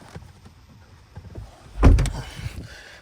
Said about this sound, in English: But let me close this door.